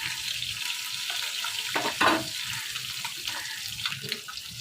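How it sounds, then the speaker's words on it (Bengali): Tengra fish fry in a pan with a continuous crackling sizzle, while turning and stirring add brief scraping bursts partway through. "এখন মাছগুলো আমার ভাজা হোক। মাছগুলোকে এখন আমি একটু উল্টিয়ে নিব।"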